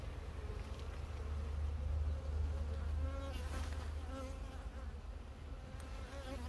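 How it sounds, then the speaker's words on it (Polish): Honey bees swarm and buzz loudly around an open beehive frame at a Warmia apiary, a dense steady drone close by that swells slightly midway, with no talk over it. "Jest naprawdę dużo pszczoły."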